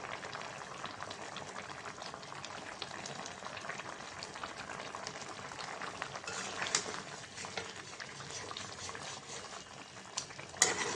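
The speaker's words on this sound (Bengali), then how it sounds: "নাড়াচাড়া দিয়ে দিলাম" Fish curry simmers in a karahi pan with a little cumin powder stirred in, a soft continuous bubbling hiss with occasional scrapes and clinks of the spoon, quiet and close, no one talking.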